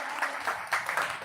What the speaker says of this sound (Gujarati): ચંદ્રસિંહ સાહેબને પણ આપણે તાળીઓથી વધાવીએ